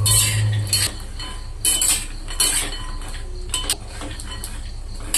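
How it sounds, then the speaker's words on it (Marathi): Almonds roasting in a pan, stirred with a metal utensil, give repeated clinks and rattles against the pan with scattered crackles, close and fairly loud. "बदाम हे बघा बदाम तरतरण्याचा आवाज येतो आहे कारण ते छान प्रकारे भाजले गेलेले आहेत"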